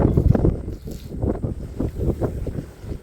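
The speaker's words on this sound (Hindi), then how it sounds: "तो और हवा चल रही भाई बहुत" Strong wind blows outdoors during mattress washing, a continuous low rumbling buffet with gusty surges that fill the whole stretch with no voices.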